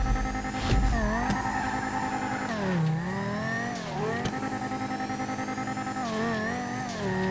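Car engine in GTA after the Lowriders update, with a steady droning whine that rises and dips in pitch through repeated revs and shifts, loud and alone with no talk.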